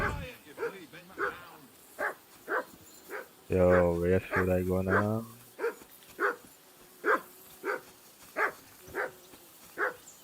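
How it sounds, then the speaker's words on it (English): A dog in Kingdom Come Deliverance 2 barks repeatedly in a steady rhythm of sharp, moderately loud barks, broken midway by a longer tonal whine, while someone briefly speaks. "I assume you can hear that damn dog of yours barking."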